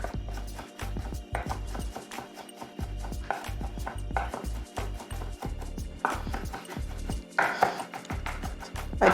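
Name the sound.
knife mincing garlic on a cutting board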